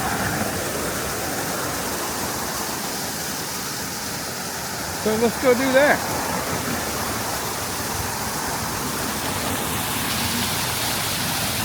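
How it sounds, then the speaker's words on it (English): Steady rushing water pours continuously from a waterfall in Maggie Valley, a broad hiss close by, with a brief spoken phrase partway through. "Our second waterfall."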